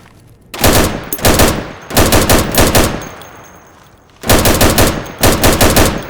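Rapid automatic gunfire from rifles shooting at targets through plywood in a video game, loud and close, in two clusters of quick bursts separated by a short lull.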